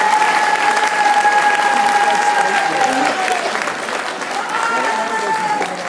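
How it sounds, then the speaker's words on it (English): A crowd applauds a teenage singer on stage, loud sustained clapping that eases slightly toward the end, with a voice briefly speaking over it. "Give her a round of applause."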